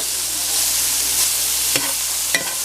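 Radish leaves sauteing in butter in a pan, a steady close sizzle with two brief stirring scrapes near the end, no voices.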